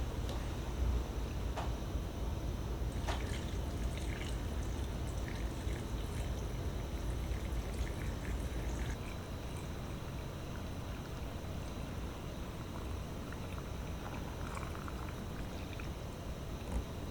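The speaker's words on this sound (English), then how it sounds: "And now we can pour our brine." Brine poured into a glass jar packed with pickled red onions, a steady close liquid gurgle and splash running continuously with a few clinks near the start and no talking.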